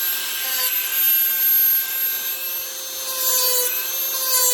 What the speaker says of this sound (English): So I'll hit this with the Dremel tool for a while.